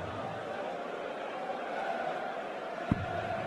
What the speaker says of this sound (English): an expectant crowd